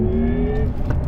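A Porsche Taycan GTS Sport Turismo electric car drives close by with a steady, loud synthetic motor hum and rising whine tones that shift pitch, with no talking.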